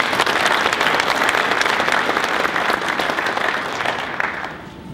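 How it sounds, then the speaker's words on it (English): Loud, sustained audience applause fills a civic gathering at the mayor's 2013 State of Raytown address, hosted by the Raytown Chamber of Commerce, holding steady before tapering slightly at the end. "join me in applauding these folks"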